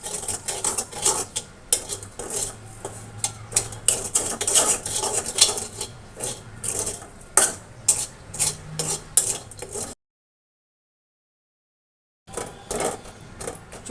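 Puffed rice with salt and sugar is stirred in a pan over a low flame, a steady run of scraping and clinking strokes with a faint sizzle beneath, then a brief silence before the stirring resumes.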